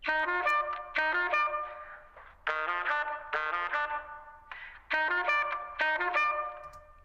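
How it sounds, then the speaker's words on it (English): Bright synthetic tones play short repeated note bursts in a choppy rhythm, each tail washing out with a roomy reverberant decay. "we can put it in a room by adding some reverb to it"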